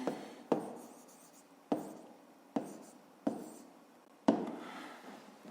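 Chalk or a marker taps and scrapes across a classroom board during a fifth-grade maths lesson, six sharp strokes spaced about a second apart, each trailing into a soft rub, with no talking.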